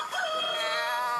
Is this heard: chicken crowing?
yes